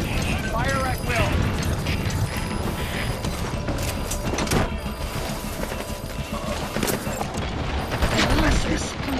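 Gunfire in Metal Gear Solid 5, heard as dense overlapping bursts and mechanical clatter in a loud, continuous battle mix, with voices calling out over it.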